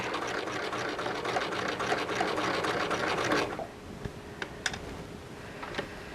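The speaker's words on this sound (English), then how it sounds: "anytime you pick your presser foot up, make sure your needle is down and don't be fighting with your fabric" A sewing machine runs a fast, continuous buzz of stitching along a seam of a western show jacket, then stops, leaving a few faint clicks and taps.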